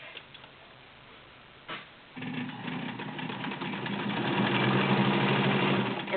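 A White Selectronic 804 heavy-duty sewing machine sewing a zigzag stitch, a rapid mechanical ticking hum that starts after a quiet pause and builds in speed and loudness, heard up close.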